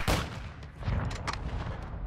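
Single sharp crack of an SPR-208 marksman rifle in Modern Warfare 2 Invasion mode, loud and close, followed by a short echoing tail and softer battlefield noise.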